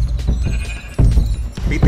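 In a fantasy video game, a sheep bleats in short, nasal bursts close up, repeated several times over a busy background of thumps and clatter from the game.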